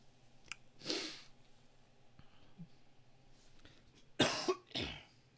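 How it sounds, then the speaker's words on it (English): A person coughs after using a THC vape, with one muffled cough early on and then two harsher, louder coughs near the end, fairly close against a quiet room hum. "I'm coughing my ass off"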